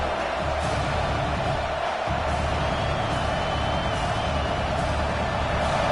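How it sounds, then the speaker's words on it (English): A large stadium crowd at a football game against Wisconsin roars steadily, a dense, continuous wall of cheering and noise with no breaks. "this crowd is fired up. Listen to this noise here."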